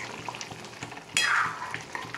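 Cooked urad dal with green masala is mixed in a pan on the stove, with soft scraping strokes over a low sizzle and one louder scrape midway, nearby and without speech.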